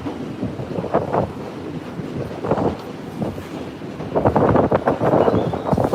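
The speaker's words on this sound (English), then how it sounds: "And what you're hearing right now is the 1 train." A New York City 1 train subway rumbles past in Manhattan with a rising and falling roar, loud and close, swelling again near the end.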